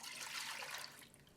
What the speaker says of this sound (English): Then I'll pour all this liquid into the corn and water mixture here.